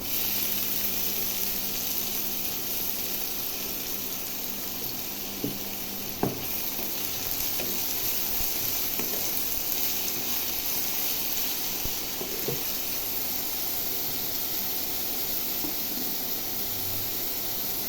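Finely chopped onions fry in a pan for a spinach and mushroom curry, giving a steady, even sizzle that holds for the whole stretch, with a few faint stirring ticks.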